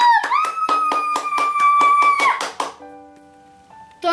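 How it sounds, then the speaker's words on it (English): Rhythmic clapping from an audience at a children's jump show, steady and fairly close, with a sustained tonal hum running alongside; it stops after about two and a half seconds, then a faint tone and a brief burst follow. "Applaud, please."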